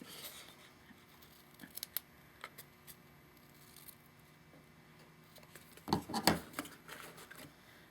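Scissors snip the edges of a scarf ribbon on a candy wrapper snowman craft, a few quiet cuts early on, then a louder cluster of crisp snips near the end over soft background rustle.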